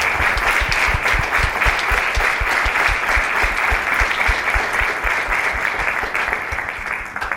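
An audience at a school academy presenters' event claps steadily, a dense, even round of applause that holds for several seconds and gently fades toward the end, with no voices rising above it.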